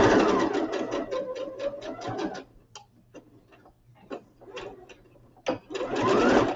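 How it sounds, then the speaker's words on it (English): A sewing machine running in short bursts as it stitches forward and back, rapid rhythmic needle clatter with pauses and light clicks between runs, close and clear. "is drop down our needle, back stitch, come forward"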